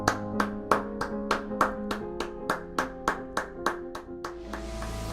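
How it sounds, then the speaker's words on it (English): Rhythmic hand claps, about fourteen evenly spaced sharp strikes, ringing over sustained piano-like tones at the end of a piano lesson on P!nk's 'What About Us', with no voices. "Give yourselves a round of applause"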